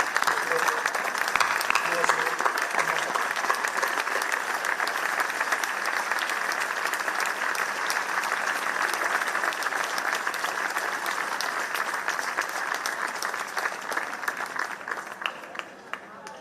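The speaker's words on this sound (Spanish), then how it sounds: "yo ahora os pediría un aplauso para todas estas personas" An audience gives sustained applause during an outdoor video projection event at a museum facade, a dense, even wash of many hands clapping that holds steady and tapers slightly at the end.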